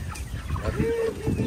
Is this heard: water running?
no